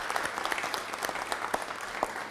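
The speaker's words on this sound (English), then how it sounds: "let's give Rec and Parks a big round of applause" Crowd applause for the Baltimore Rec and Parks department at an AFRAM festival announcement, a steady patter of many hands clapping with sharper individual claps standing out, moderately close and without speech.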